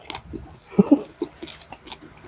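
Crunchy jellyfish is chewed close to the microphone, giving several soft, wet crunching bites in an uneven rhythm with brief pauses between them.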